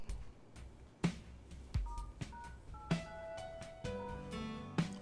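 Mobile phone keypad beeping as a USSD unlock code is dialed, a series of about eight short dual-tone presses with uneven gaps, clear and close, with no talking.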